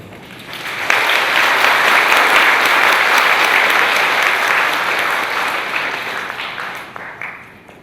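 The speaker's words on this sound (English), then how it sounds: "Ladies and gentlemen, please give him another big round of applause" A lecture audience applauds Professor Robert J Shiller at a 2017 real estate conference in Taichung, Taiwan. The dense, steady clapping starts abruptly, stays strong for several seconds, then thins out toward the end.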